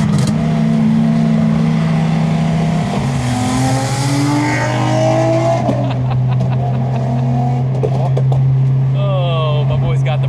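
Tuned R34 GT-R engine revving loudly, with the pitch climbing and falling and a burbling exhaust crackle afterward, close and continuous. Voices speak over the engine.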